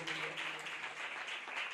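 A church congregation in Pakistan bursts into a brief, dense round of applause for a visiting evangelist, with many hands clapping in a steady, even wash.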